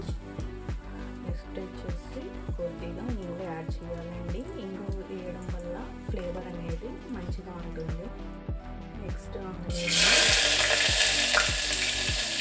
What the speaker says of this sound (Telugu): ఆయిల్ హీట్ అయిన తర్వాత కొద్దిగా జీలకర్ర నెక్స్ట్ వచ్చేసి ఆవాలు